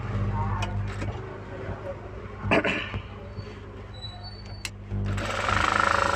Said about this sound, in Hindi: अब ये हमें बेल्ट के आगे की तरफ सिलाई लगा लेना है।